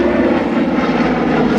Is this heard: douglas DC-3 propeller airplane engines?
yes